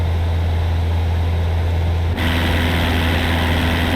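A propeller aircraft engine in Flight Simulator 2024 drones loudly and steadily during takeoff, with its tone stepping up abruptly midway as power increases.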